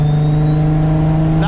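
A turbocharged 800 hp Infiniti G35 engine hums steadily with a strong low drone, then near the end a rising whine and brief rush of about one pound of boost as the throttle opens.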